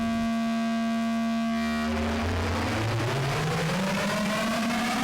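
Doepfer A-199 module patched as a feedback oscillator: a buzzy, harmonic-rich drone whose pitch holds steady, then glides upward in a continuous sweep, loud and alone with no talking.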